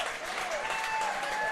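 A baseball stadium crowd applauds for a young fan during a game, a steady broad patter of clapping lasting the whole moment, with faint tones and crowd murmur mixed in.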